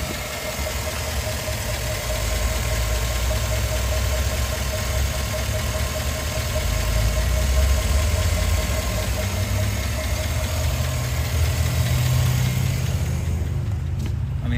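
The V8 engine of a 2010 Chevy Tahoe with an automatic transmission idles under the hood, a steady, loud, low rumble that holds constant throughout with no voices.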